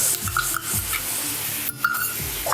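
Paneer stirred in a hot pan with a soft continuous sizzle and repeated scraping strokes of a spoon, fairly close.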